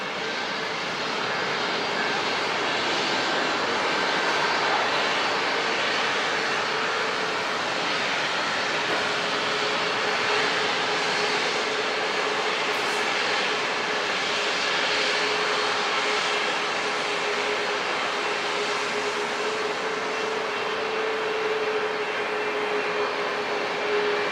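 Jet airliner engines spool up for takeoff at San Diego International Airport, giving a sustained, broad roar with a faint tonal whine. The sound stays loud and nearly constant across the long stretch.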